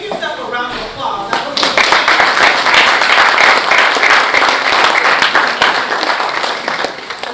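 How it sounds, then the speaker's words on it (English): A room of maintenance staff gives a round of applause, dense steady clapping that swells quickly and holds for several seconds, close and loud, with a few voices mixed in. "Maintenance, give yourself a round of applause."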